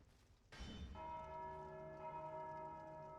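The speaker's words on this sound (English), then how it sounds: "I can ring the bell." A bell in a video game is struck once, ringing out with a sharp clang that settles into a sustained, resonant metallic tone fading slowly, heard clearly and alone.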